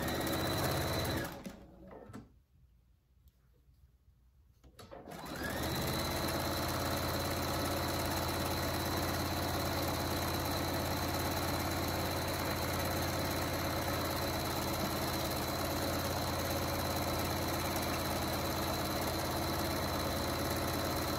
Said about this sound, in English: You're going to sew around the edge to enclose the exposed seam on the inside.